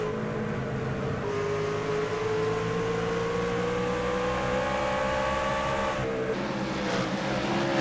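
Race cars roar around a racetrack in a continuous loud engine drone, pitch sliding slowly upward as they pass, with a sharper shift near the end.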